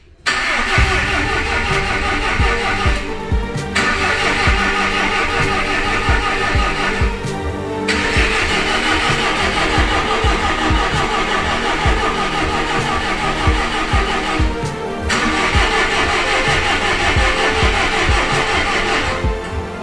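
A Lancia Delta Integrale Evo2 engine cranks repeatedly in long rhythmic bursts, with brief pauses between attempts, loud and close.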